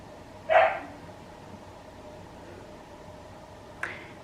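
A dog gives a single short bark indoors, fairly faint and somewhat distant, followed by a quiet room with only a tiny click near the end.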